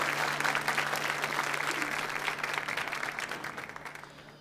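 A church audience gives a speaker a warm round of applause, dense steady clapping from a crowd that gradually fades toward the end.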